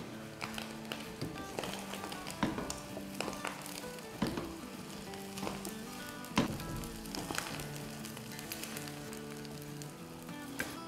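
Onions and green chillies sizzle steadily in a frying pan during jalfrezi preparation, a continuous crackling fry with scattered sharper taps and clinks of utensils throughout; no one speaks.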